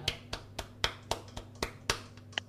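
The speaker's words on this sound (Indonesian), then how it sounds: "Yuk kita tepuk tangan sama-sama dalam hadirat Tuhan." Hand claps from a church congregation during a worship service. Single crisp claps come one after another at a fairly steady, unhurried pace, about three each second, over a low constant hum, and no one speaks.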